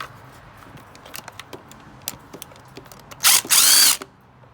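A 10mm bolt being loosened on a 2012 Hyundai Elantra engine with a power driver: a series of short ratcheting clicks and taps, then two loud, sustained whirring bursts near the end, close up with no talk.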